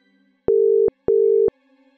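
Two evenly spaced tones of a telephone line ringing, each about half a second long, loud and clean against near-silence.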